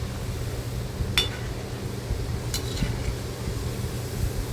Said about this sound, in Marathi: तशा हलवत राहायच्या तळताना म्हणजे सगळीकडे एकसारख्या तळल्या जातात